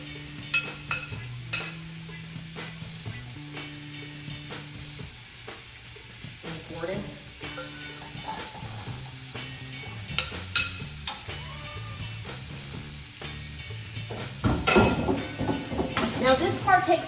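Sweet potato sizzles in a pan while being stirred, a steady frying hiss broken by utensil scrapes and clinks against the pan, with background music and someone talking over it.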